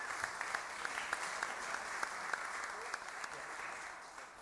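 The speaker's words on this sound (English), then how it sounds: "Let's give Kenny another round of applause for all of him." Moderate applause from the audience at a city council meeting welcoming a new president, steady claps with crisp individual hits, fairly quiet and with faint voices underneath.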